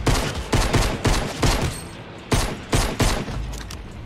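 Weapon fire in Fortnite, repeated loud shots in short irregular bursts with brief gaps between volleys, alone without speech.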